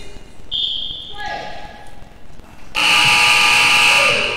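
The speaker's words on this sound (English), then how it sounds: "And the buzzer sounds" A loud, sustained electronic buzzer blares over arena noise after some shorter tones, continuing steadily to the end, marking the end of a first half at a goalball tournament.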